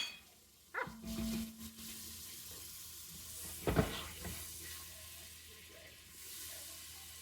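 Butter hits an overheated frying pan with a sudden hiss and crackle, then a second loud burst of sizzling a few seconds later, fading to a quieter steady fry.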